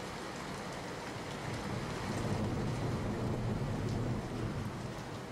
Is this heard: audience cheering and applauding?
no